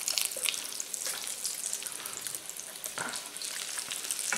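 Leftover turkey croquettes fry in oil after being flipped, giving a faint, steady crackling sizzle with scattered small pops.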